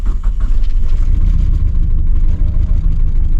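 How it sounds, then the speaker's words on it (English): A Mitsubishi 4G93 car engine runs rough and uneven, as if firing on three cylinders, with a loud, lumpy low rumble and irregular pulses close by. "I don't know if you all can hear, but it's running like 3-cylinder"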